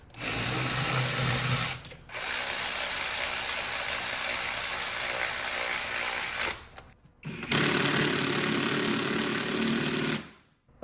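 Rapid ratcheting impact-tool bursts on a 454 big block Chevy engine, loud and close, three long runs separated by short pauses, with no talking.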